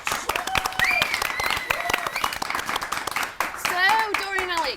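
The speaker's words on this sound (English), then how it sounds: "Doreen and Alec, everybody, please, round of applause." A studio audience claps for two grandparents being introduced, the applause running beneath overlapping voices and vocal sounds, with talk and exclamations on top for most of the stretch.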